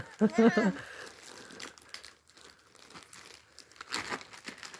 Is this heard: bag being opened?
yes